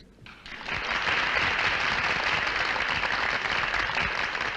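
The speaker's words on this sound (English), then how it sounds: "Listen to the audience applaud." Sustained applause from a crowd, a steady wash of clapping that starts abruptly and holds at an even level throughout.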